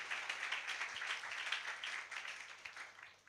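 A congregation at a church service claps for newcomers, a steady, dense wash of many hands applauding continuously, fairly faint and slowly tapering toward the end.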